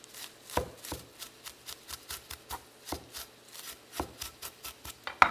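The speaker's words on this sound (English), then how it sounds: "Now I'm just going to finely chop the parsley" Rapid knife strokes finely chop fresh parsley on a cutting board, a run of close, crisp taps in an uneven rhythm with no talking.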